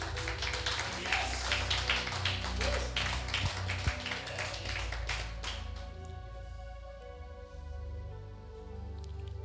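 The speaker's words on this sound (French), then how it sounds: "Acclame un peu Jésus" A church congregation claps and applauds for Jesus, a dense scatter of hand claps under background murmur that thins out into sustained keyboard-like tones toward the end.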